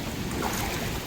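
Heavy typhoon rain and wind during Typhoon Danas in Taiwan, a dense, loud, unbroken roar of rushing water and gusts filling the whole moment without any talking.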